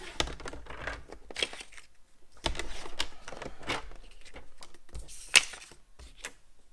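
Paper or card panels cut to size for a cube calendar in a crafting session, a few short scraping and crinkling cuts in separate bursts with pauses between, fairly quiet and close, without talk.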